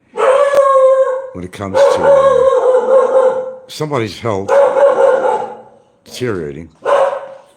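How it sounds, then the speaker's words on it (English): A dog barks and howls in loud drawn-out wails, with a few sharp barks in between, close by and mixed with someone talking over it. "sorry about the dog."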